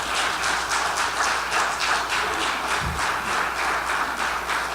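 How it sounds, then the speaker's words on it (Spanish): A crowd at a graduation ceremony claps steadily for the graduates, an even, sustained wash of many hands at moderate loudness with one low thump partway through, no talking. "vamos a darle un aplauso"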